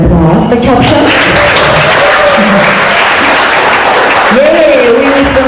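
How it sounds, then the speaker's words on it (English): Loud audience applause fills a closing-night award ceremony at the ChopShots Documentary Film Festival Southeast Asia 2014, steady dense clapping running throughout with a voice carrying over it and a whoop or cheer rising near the end. "Can we have a round of applause for ChopShots?"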